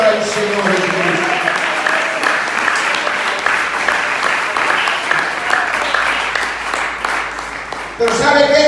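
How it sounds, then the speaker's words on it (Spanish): A church congregation applauds loudly and steadily for several seconds, a dense continuous roar of clapping with voices mixed in, ending abruptly near the close. "Un aplauso fuerte para el Señor Jesucristo."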